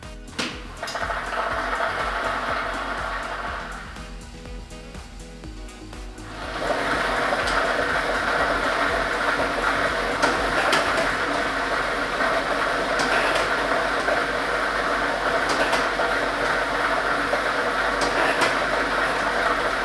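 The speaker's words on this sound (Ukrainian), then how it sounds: "І ми вмикаємо лототрон." A lottery ball drawing machine (drum A with ball set no. 1) runs during a state lottery draw, a steady mechanical whirring and rattling that swells noticeably louder a few seconds in and then holds at a constant roar.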